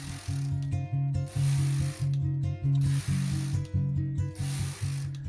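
A Brother KH-230 chunky knitting machine carriage is pushed back and forth across rows, giving a rhythmic series of ratcheting, clattering mechanical passes about every half second, fairly close and without speech.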